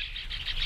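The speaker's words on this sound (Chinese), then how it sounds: "你麻雀子叫唤呀" A sparrow chirps in quick repeated bright tweets, close and clear over a low rumble, with no speech.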